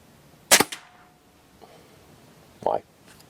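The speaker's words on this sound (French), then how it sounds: "Logiquement on a tiré 5 plombs." A Stoeger XM1 air rifle shoots pellets, giving two sharp, snappy cracks about two seconds apart against a quiet background.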